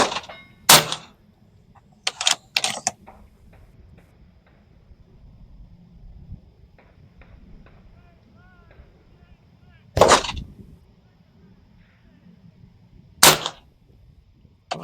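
JTS Airstryke .22 carbine air rifle firing, several sharp loud cracks spread irregularly, a close pair and a single early on and two more later, over a quiet low background.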